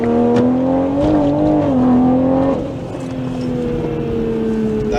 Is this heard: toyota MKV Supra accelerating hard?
yes